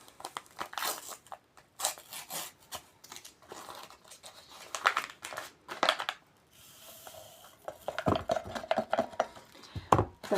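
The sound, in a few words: tearing open a packet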